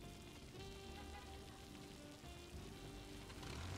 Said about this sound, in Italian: Quel giorno pioveva moltissimo.